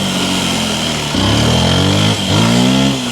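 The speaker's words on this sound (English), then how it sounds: "Wow, man, this bike is rapid. Full throttle!" A Yamaha dirt bike at full throttle in first gear revs hard in rising engine whines, climbing in pitch, then dipping and climbing again, loud and close with a steady buzzing drone.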